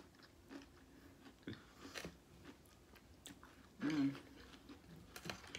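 Someone chewing a raw shrimp salad made with pink Argentinian shrimp at close range, soft wet bites and crunches in scattered bursts with one louder chew near the end.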